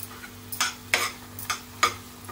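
Mawa being mixed with saffron milk for modak, with soft wet stirring and four or five distinct scraping strokes of a spoon in a bowl over a quiet background hum.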